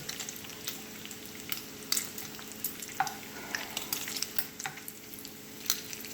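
Bacon sizzling steadily in a pan over medium-high heat, a continuous crackle with scattered sharper spits and pops rising above the hiss, fairly close.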